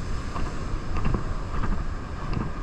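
Strong wind buffets the microphone with continuous rumbling gusts, a low roaring rush rising and falling with no voices.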